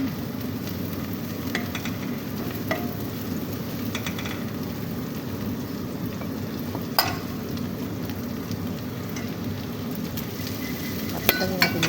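Garlic frying in a pan for a glass noodle stir-fry gives a steady, soft sizzle with faint crackles and occasional clinks of stirring throughout, with no talking.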